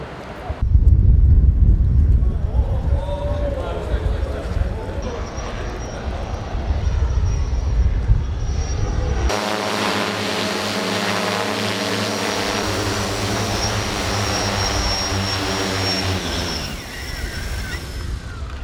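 Delivery drone taking off during a trial flight in Kasama, a loud close propeller whine and wind-buffeted roar that shifts to a steady buzzing hum with tonal rotor harmonics as it climbs away.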